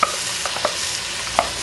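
Onion sautés with bay leaf and tomato sauce in a pan under a continuous hiss of frying, with a few distinct clinks and scrapes of the stirring utensil and no voices.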